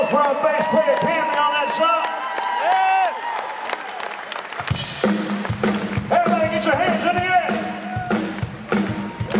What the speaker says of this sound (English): A big round of applause for our bass player, Pam.